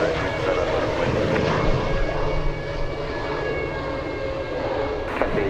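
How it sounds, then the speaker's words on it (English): A Boeing 747 on final approach at Anchorage airport in gusty wind, a loud continuous jet engine roar with a steady whine that holds throughout, with no talk over it. "747 on final approach."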